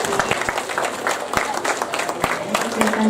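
Applause at a primary school assembly marking Maulidur Rasul, with rapid clapping from a crowd of children running throughout, mixed with chatter and a voice talking over it.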